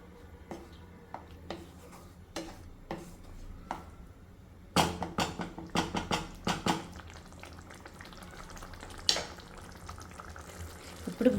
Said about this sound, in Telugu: ఇప్పుడైతే ఒకసారి బాగా మిక్స్ చేసేసి వేగనిద్దాము